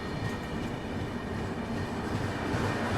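The Mumbai-Ahmedabad Double-Decker Express pulls into Anand Junction railway station in the early morning, making a continuous loud rumble with rolling wheel and carriage noise that holds steady throughout, with no voices.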